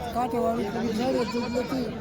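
A domestic goat bleats in a long, wavering cry close by at a village goat market in Chalisgaon, loud and continuous over the brief moment.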